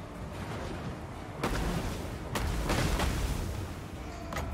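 Artillery fire in the Total War: Warhammer 2 video game during a siege: several loud low booms and blasts over a constant rumbling battle ambience, with heavy hits near 1.4, 2.4 and 2.8 seconds and another near the end.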